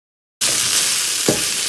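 Potatoes frying in a pan break into a loud, steady sizzle that starts abruptly, with one brief scrape of stirring partway through.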